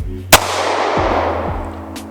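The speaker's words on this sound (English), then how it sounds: "This thing is just a blast to shoot, and that's what it was designed for." A single loud, sharp gunshot from a Lifecard .22 WMR single-shot pistol, close, with a long reverberant tail that fades over about two seconds, and no talk.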